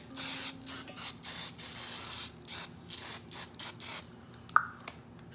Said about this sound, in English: I'm also going to spray it with some nonstick because this is a brand new pan.